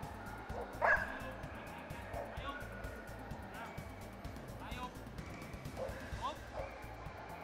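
At an outdoor dog agility event, a Nova Scotia dog gives a single sharp bark early on, with faint yips later, all under someone talking and steady crowd and venue noise.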